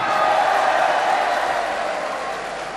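Loud, sustained applause from a large audience at a party congress in Bali, a dense wash of clapping that holds steady and then eases off slightly toward the end.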